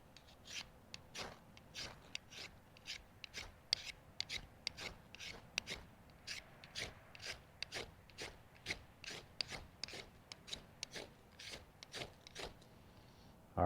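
Sharp edges of a steel striker scraped flat along a ferro rod to strip its coating, a steady run of rasping strokes repeating evenly and close up, with no voices.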